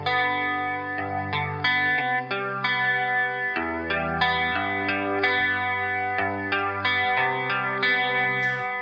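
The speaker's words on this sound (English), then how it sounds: "So I'll play you the riff" Electric guitar riff for a grunge-influenced pop punk song, played with chorus and distortion effects, a steady sequence of ringing, sustained chords shifting every second or so, loud and close with no voices.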